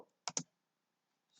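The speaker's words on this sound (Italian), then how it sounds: "scrivo io, invio sulla tastiera" A computer keyboard key, the Enter key, pressed with a quick double click, close and quiet, in an otherwise silent pause.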